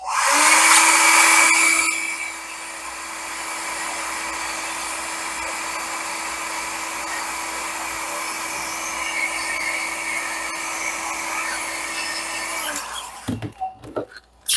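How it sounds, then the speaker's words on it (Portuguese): A hair dryer drying a pleated fabric dress blows steadily with a constant whine for about twelve seconds, a louder burst at the start, then clicks off into handling noises. "E aí você pode usar o secador de novo."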